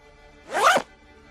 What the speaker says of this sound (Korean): 가방의 지퍼를 열자